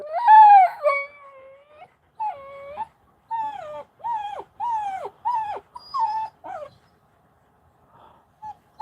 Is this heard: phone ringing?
no